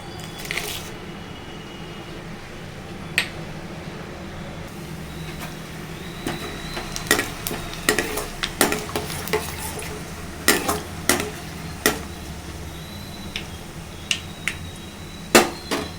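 Oil crackles and sizzles steadily as tempering seeds are added, with sharp popping bursts scattered throughout, growing busier toward the middle, close up in a pan.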